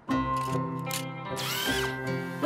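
A power drill whirs steadily, its motor pitch rising and falling as it runs, close and loud with no voices.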